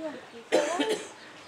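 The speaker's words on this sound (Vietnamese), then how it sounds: "sao lại vẫn còn ho thế này?" A person coughs in a short, sharp burst of two or three coughs, close and fairly loud, at a rural home with overgrown grass, after a brief faint voice.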